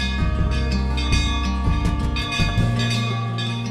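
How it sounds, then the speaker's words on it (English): Temple bell at a Shiva temple in Madhya Pradesh, rung automatically by a sensor when a devotee passes beneath it, gives sustained metallic ringing with overlapping strikes and long resonant tones, loud and close, without talk. "The bell made by Khan starts ringing as soon as the devotee comes under it or falls his hands beneath it to pay respect to the deity."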